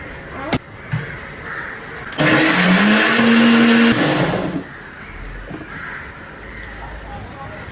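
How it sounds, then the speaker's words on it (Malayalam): A mixer grinds coconut, cumin and shallots loudly for about two seconds in the middle, its motor whine rising in pitch, with quieter kitchen sounds before and after. "തേങ്ങ, ജീരകം, ഉള്ളി അരച്ചെടുക്കാം."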